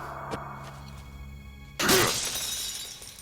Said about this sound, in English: You can also smash the lights.